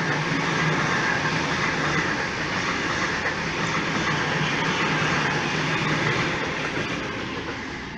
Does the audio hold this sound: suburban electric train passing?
yes